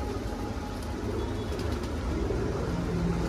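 Punjabi pigeons for sale coo softly and steadily over a low, continuous rumbling background hum, with no voices.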